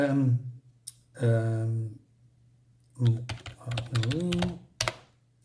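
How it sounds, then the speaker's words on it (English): A computer keyboard being typed on produces quick bursts of clicks and clatter that come and go in short runs, with someone talking between and over the keystrokes. "I'm gonna use my keyboard real quick"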